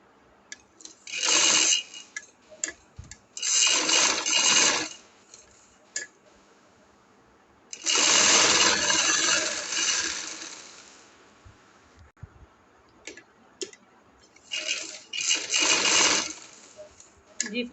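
A sewing machine stitches the belt of an angrakha frock in several rapid, rattling bursts of varying length, close and fairly loud, with quiet handling noises between runs.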